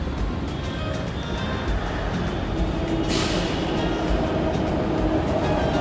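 A short three-car Pune Metro train runs with a steady, loud, broadband rumble and rushing noise close by, a brief hiss joining midway, with no clear voices.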